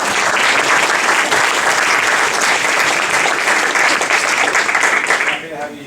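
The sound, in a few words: audience round of applause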